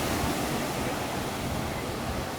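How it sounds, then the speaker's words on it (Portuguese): Sea waves wash onto a sandy beach, with boats further out on the water, giving a steady, full rush of surf that stays constant and fairly loud, with no voices. "Foco no mar com barcos ao fundo."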